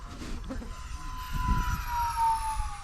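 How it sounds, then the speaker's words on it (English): An XFly Eagle Twin 40mm EDF RC jet wing whines past at full throttle, a high steady ducted-fan tone that shifts in pitch as it passes, with wind noise and faint low rumble. "Going up, rolling over, full throttle pass"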